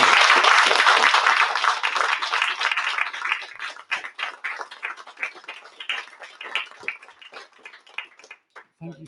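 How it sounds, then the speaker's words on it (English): An audience at an animation club talk bursts into loud applause that gradually thins into scattered claps and fades out. "can we have a massive round of applause for Phil Davies?"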